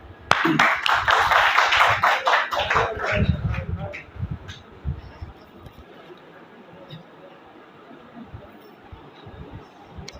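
An audience at a book launch event claps in a brief, fairly close burst of applause that fades after a few seconds, followed by quieter room sounds and scattered taps.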